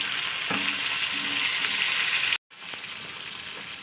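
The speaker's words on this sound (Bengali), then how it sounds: "তো দেখুন বন্ধুরা, একটা মাছটা ভাজা হয়ে গেছে" Fish fries in a pan with a steady, close sizzling hiss, interrupted by a brief silent gap before the frying resumes, with no talk.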